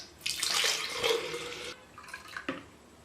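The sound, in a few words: water poured back into a jug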